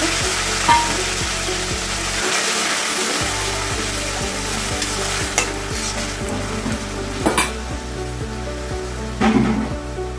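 Bottle gourd frying in a spice tempering of dried chilli, loud close sizzling with a dense run of regular scraping stir strokes and a few sharper clatters, no voices.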